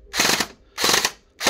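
A GBF Honey Badger gel blaster with a CNC gearbox and mosfet fires in burst mode. Three rapid buzzing bursts ring out close up, each a tight, fast rattle of shots, separated by short pauses.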